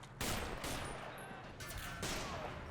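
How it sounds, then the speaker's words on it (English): Gunfire in a battle in the video game Men of War: Assault Squad, with British landship tanks in the fight: dense overlapping volleys of shots crackle back and forth in loud, continuous bursts. "Look at them shooting each other back and forth like that"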